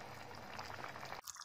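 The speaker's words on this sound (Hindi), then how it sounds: "फिर इसके अंदर दोबारा पानी डालते हैं।" Water poured into a cooking pot of houbara bustard (taloor) and flour: a soft, steady rushing splash that stops abruptly, quiet and close.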